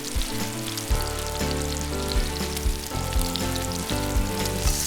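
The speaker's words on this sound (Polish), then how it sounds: "Mogę zacząć smażyć mięso." Steady, dense sizzling of chicken frying in a hot pan, loud and close, with a constant crackle throughout and no voices.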